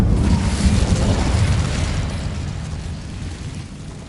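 A fiery spell bursts in Hogwarts Legacy, a loud whooshing roar of flame with heavy low rumble that slowly fades over a few seconds, no voices over it.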